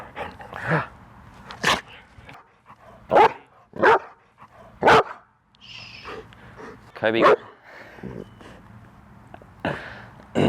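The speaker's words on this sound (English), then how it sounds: "He's a very happy, very silly dog." A happy, playful pet dog gives a series of short barks and yips spaced every second or so across the stretch, close by, with people talking around it.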